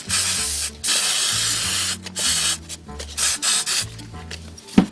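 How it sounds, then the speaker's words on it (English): Hairspray from an aerosol can sprayed onto a handmade ribbon hair bow set on a sheet of paper, heard as several short, close hissing bursts separated by brief pauses. "and then take some hairspray, and you're going to spray your hair bow."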